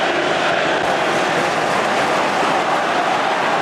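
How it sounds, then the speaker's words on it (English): A dense stadium crowd roars continuously and loudly after a Mark Hughes goal against Barcelona in a 1994 Champions League match with Manchester United, the noise steady and overwhelming throughout. "Listen to this crowd."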